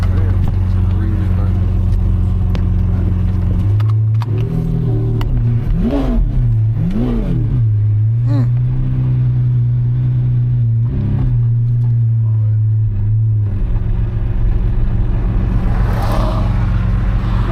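An 850-horsepower sports car held on launch control, with a deep continuous engine drone, several sharp revs climbing and falling in the middle, then settling back to a loud steady rumble, all close up.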